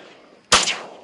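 A single sharp shotgun blast aimed at flying teal ducks during an opening-day hunt in Nebraska, loud and close, ringing out briefly before fading.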